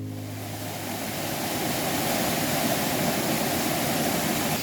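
A waterfall in Patterdale in the Lake District gives a steady, loud broadband rush of falling water, continuous and close, with no voices.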